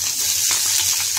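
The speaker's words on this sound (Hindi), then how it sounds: "उसके बाद हम इसमें डालेंगे शिमला मिर्च।" Capsicum hitting hot oil in a kadai, a loud, dense sizzling hiss that stays steady and close throughout the brief moment, with no voice over it.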